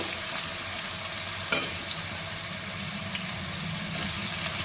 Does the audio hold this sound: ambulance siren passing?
no